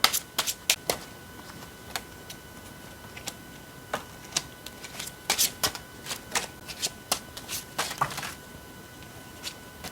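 Tarot cards riffled and shuffled in repeated quick bursts, crisp papery flutters and snaps close by with short pauses between, no talking.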